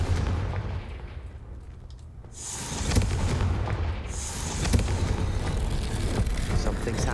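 A Confringo spell in Hogwarts Legacy bursts into explosive booms, with a deep rumbling blast and sharp cracks echoing amid ongoing game ambience at moderate loudness.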